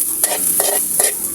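Corned beef and banana sizzle in a frying pan while a utensil scrapes and stirs in three quick, close strokes over the steady frying hiss.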